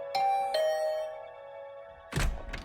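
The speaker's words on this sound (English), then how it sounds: "I had just returned to my room when the doorbell rang." A two-tone chime doorbell rings twice in a room in the video game The Hundred Line: Last Defense Academy, its tones ringing out and decaying, followed by a couple of dull thumps like a door opening.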